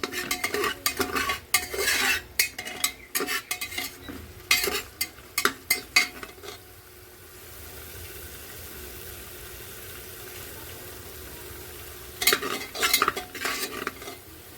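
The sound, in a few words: frying and stirring bottle gourd greens in a pan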